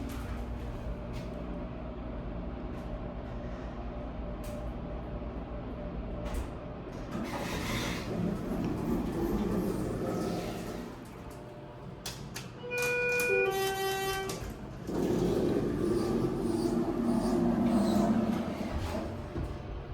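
A Schindler HT 330A hydraulic elevator at a Residence Inn by Marriott hotel in Columbus runs with a steady low mechanical hum throughout, and a short run of chime tones sounds near the end before the hum continues, with no talking.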